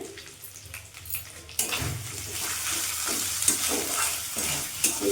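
Moong dal with fish head, taro, salt and Kashmiri chilli sizzles in a pan; quiet for a moment, then a loud hiss of frying rises, with scraping stirs on top.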